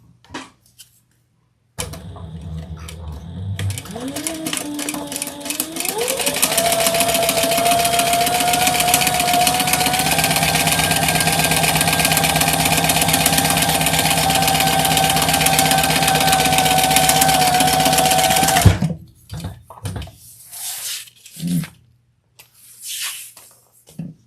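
A sewing machine stitching modified leather whirs up to speed and then runs steadily in a loud, even hum for about fifteen seconds. It stops abruptly and is followed by a few quiet clicks and handling sounds.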